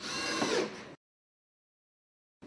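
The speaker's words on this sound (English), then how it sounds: "Attach the plenum adapter with 5/16-inch screws." A power drill briefly drives a 5/16-inch screw to fasten a plenum adapter to ductwork, giving a close, loud whirring burst of about one second, then silence, then the drill starting again.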